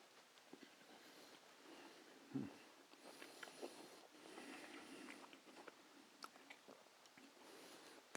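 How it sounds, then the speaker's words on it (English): Chewing crunchy fioretto vegetable dressed with miso bagna cauda and miso espuma, quiet close mouth crunches and soft bites scattered over several seconds against faint room noise. "Still enough of a crunch there on the vegetable."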